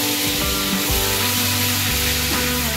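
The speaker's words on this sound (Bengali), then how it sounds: "তো এবার আমি দিয়ে দেবো পেঁয়াজ বাটা" Onion paste fries in hot oil in a pan for prawn malai curry, a loud, continuous sizzle and hiss with tonal hum running underneath throughout.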